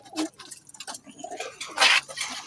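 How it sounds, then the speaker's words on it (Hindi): Pigeons kept for sale, some young birds among them, coo and stir nearby in soft repeated calls with faint fluttering and shuffling. "कुछ इनमें से उनके उड़े हुए कबूतर हैं और कुछ बच्चे निकले हुए हैं"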